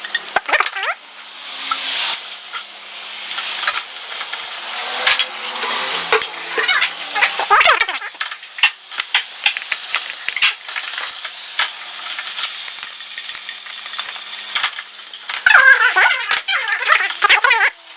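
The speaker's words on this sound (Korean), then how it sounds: "호박의 윤기가 약간 날 수 있게만 볶아주시면 돼요." Zucchini stir-fries lightly in a hot pan without salt, with steady sizzling and repeated scrapes and clinks of a utensil stirring against the metal.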